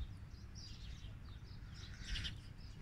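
Faint small bird chirps flicker in and out over a low, rumbling background, soft and distant with no clear song pattern.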